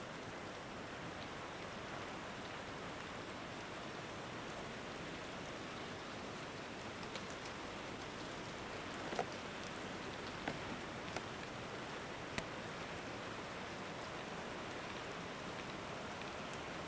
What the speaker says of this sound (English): You can hear small amounts of hail are around and it's coming up the road.